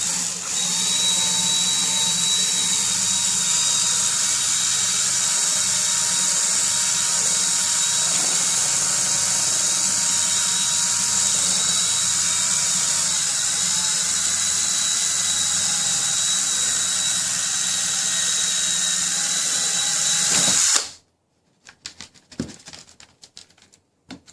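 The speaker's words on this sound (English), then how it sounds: "And of course, I'll drill through my hand." A power drill whines continuously at close range for about twenty seconds, then stops abruptly, followed by a few faint clicks and knocks.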